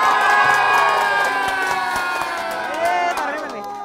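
A small indoor group cheers and shouts together, a loud burst of excited voices with a few scattered claps and whoops at a home gathering, fading slightly toward the end.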